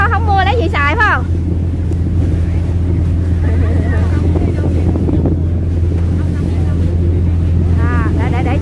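Steady wind buffets the microphone aboard a Bang Tra river ferry crossing in the late afternoon, with a constant low engine drone beneath and someone speaking over the continuous rushing noise.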